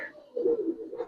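A Giribaz high-flyer pigeon gives a single short, low, throaty coo, close and quiet, lasting about a second.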